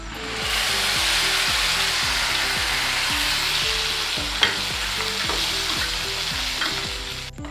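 Chopped garlic and tomato puree fry and get stirred in a pan, a steady close sizzle with repeated scraping strokes of the spoon and no voices.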